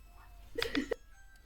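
A brief two-note doorbell chime rings once, close by, over a quiet background hum.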